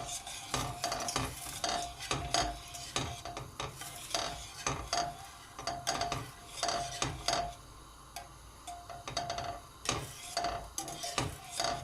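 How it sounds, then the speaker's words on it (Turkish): Butter and margarine melt in a pot with a soft sizzle under repeated rhythmic scraping strokes of a spoon stirring against the metal, close and fairly quiet throughout. "Şu anda tereyağım ve margarin eriyor."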